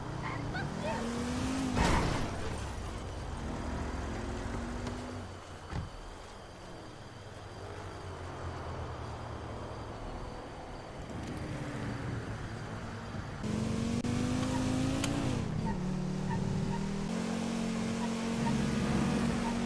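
A car engine in GTA V drones and revs while driving, its pitch climbing and falling as it shifts, with voices talking over the engine throughout.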